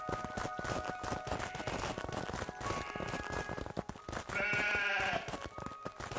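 Sheep in the Craftopia video game bleat in a short burst over a busy, clattering game backdrop of repeated knocks, with a clearer tonal call near the end; no one talks.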